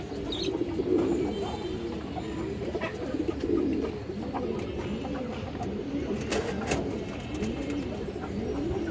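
Pigeons on a pigeon farm, including an old-breed pair of jhak gola pigeons, coo in repeated low, warbling phrases close by against a steady background hum.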